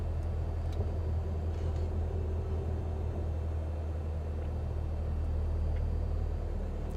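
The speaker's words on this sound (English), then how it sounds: "There's the road I was talking about, complete with traffic." Steady low rumble of road traffic heard from the air in Flight Simulator 2020, a continuous engine drone with faint passing vehicle noise, no talking.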